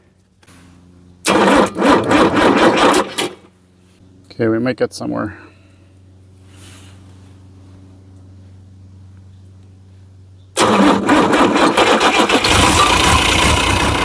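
A Navistar DT360 diesel swapped into a Ford dentside crew-cab truck cranks and fires almost at once, then settles into a loud, steady idle; a brief burst of talk comes between the cranking and the restart.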